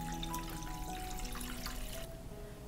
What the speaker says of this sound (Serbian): Isipat ću vodu u šerpe do visine poklopca.